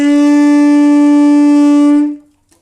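A single loud tenor saxophone note held steadily for about two seconds, then released, followed by a faint click.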